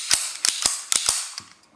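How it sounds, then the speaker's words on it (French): Turning the barrel of an Astra pistol a quarter turn makes a quick series of five or six sharp metallic clicks and snaps, close and crisp, before a softer final click as the barrel seats back into place. "Il suffit de tourner d'un quart de tour le canon, et hop, ça se remet tout seul."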